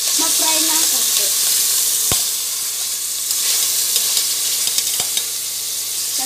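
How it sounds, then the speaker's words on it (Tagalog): Chicken pieces fry in an open pressure cooker. A loud, dense, hissing sizzle fills the scene close up, with a couple of sharp clicks and faint stirring scrapes. "hayaan po natin munang ma-fry ng konti"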